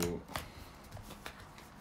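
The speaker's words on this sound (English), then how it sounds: "we shall shuffle them up." A deck of cards for a war board game being shuffled, a few soft crisp flicks and slides, close and quiet, with no talk.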